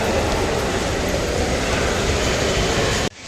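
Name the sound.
Shirdi railway station ambience with train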